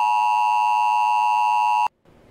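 A steady two-frequency sine tone, generated in Python, mimicking an emergency alert signal; loud and continuous for almost two seconds, then cut off abruptly, leaving faint room noise.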